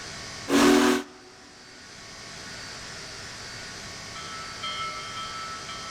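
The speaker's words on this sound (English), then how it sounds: "And here is your whistle." Steam whistle of a Union Pacific Big Boy locomotive in Train Simulator 2021, one short loud blast of about half a second, followed by a low steady hiss of steam.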